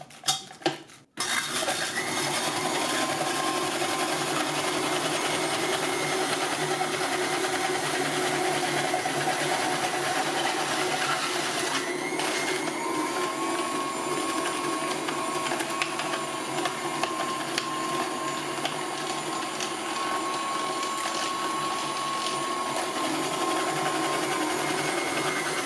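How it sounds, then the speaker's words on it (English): KitchenAid stand mixer running its RVSA slicer/shredder attachment with the number 2 coarse shredder cone, grinding and rattling steadily through a quartered small cabbage for about twenty-five seconds after a brief clatter, with no talking. "Now I'm going to use the number 2 coarse shredder for cabbage."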